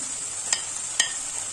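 Ground coriander and other powdered spices go into a hot masala paste for spicy periwinkle kosha: a constant bright sizzle with two short, sharp scrapes or taps a half-second apart.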